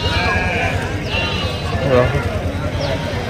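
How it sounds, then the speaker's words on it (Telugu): Goats and kids bleating in short wavering cries at a moderate distance at a weekly livestock market, heard beneath nearby people talking and a steady outdoor background. "ఇక్కడ కొన్ని ఉన్నాయి, పిల్లలు మేకలు అన్నీ ఉంటాయి."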